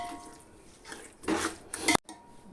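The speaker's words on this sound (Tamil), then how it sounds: "சிக்கனை போட்டு இப்போ லைட்டாக அதில் அப்படியே பரட்டணும்." Chicken for a hotel-style dum biryani is tossed through masala in a cooking pan, giving quiet scraping and stirring rasps that swell into a louder scrape near the end before stopping abruptly.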